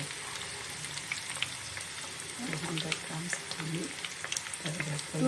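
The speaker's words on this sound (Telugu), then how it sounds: "ఇప్పుడు తాలింపుకి నూనె రెడీ చేశాను. ఇట్లాంటి వెల్లుల్లిపాయ రెబ్బలు 10 వేయాలి." Ten garlic cloves go into hot oil for tempering a cauliflower pickle, giving a soft steady sizzle that grows busier toward the end, under a quiet background.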